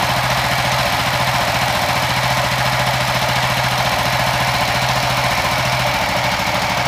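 A bored-up motorcycle fitted with a racing ECU idles close by in a steady, loud, even rhythm of low pulses that holds through the whole stretch, with no talking over it.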